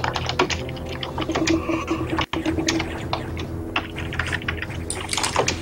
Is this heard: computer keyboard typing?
yes